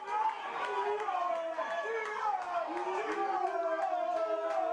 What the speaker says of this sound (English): Cries of Gio once again going up from the crowd